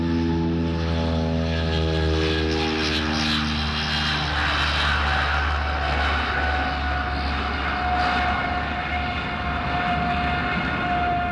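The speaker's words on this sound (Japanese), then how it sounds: "関係者の見守る中を見事快音を残して離陸する YS-11。" A YS-11 propeller airliner takes off, its engines roaring steadily with a droning whine whose pitch shifts as it powers away, loud and continuous with no voices.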